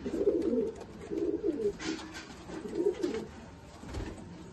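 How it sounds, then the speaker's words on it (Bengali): Pigeons coo in a home loft in Bendel, Chinsurah, with soft, throaty bubbling calls repeating in close rhythmic bursts and brief pauses between them. "দুটো পায়রা সেলে আছে"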